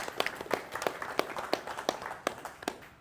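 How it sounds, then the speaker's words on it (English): A small group at a radio club meeting claps sparsely, a handful of distinct hand claps in an uneven rhythm, fairly faint in a quiet room. "So a round of applause for everyone in the room that helped out with that project."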